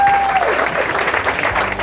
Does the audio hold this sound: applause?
yes